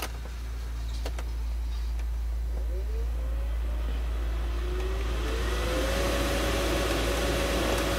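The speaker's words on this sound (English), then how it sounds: "as you guys can hear, the blower motor is definitely working now" The blower motor in a 2015 Mercedes/Dodge Sprinter 3.0L runs over a steady low hum, its whine rising gradually in pitch and airy rush as the fan ramps up.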